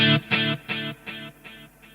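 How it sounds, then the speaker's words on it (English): A single electric guitar chord rings out and a tempo-synced delay repeats it five times, each echo evenly spaced and fading softer, with no voices. "This has a delay that sounds like this."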